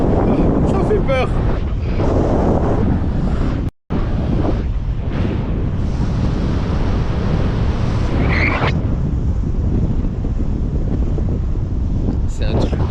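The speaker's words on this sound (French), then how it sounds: "Pas de vent, c'est la vitesse du vent." Strong wind buffets the microphone while airborne, a loud continuous rushing roar with a brief dropout midway; voices talk over it at times.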